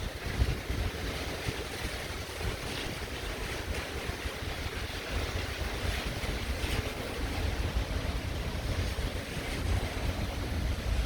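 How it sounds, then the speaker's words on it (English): Heavy rain and wind on a downtown Brooklyn street, a dense, steady wash of hissing downpour with low wind rumble, continuous and fairly loud with no voices. "it's raining and it's windy."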